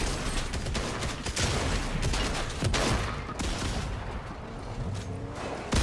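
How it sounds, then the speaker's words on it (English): Dense, continuous video-game gunfire, with overlapping shots from several directions forming a steady barrage that fills the whole stretch. No talk breaks through. "there's someone else shooting from another direction"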